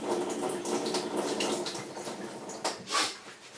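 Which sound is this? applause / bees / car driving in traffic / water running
water running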